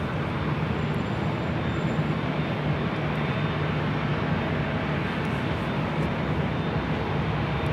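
A Delta Connection Embraer E175LR regional jet at Los Angeles International Airport, a steady loud engine roar held evenly throughout with no break.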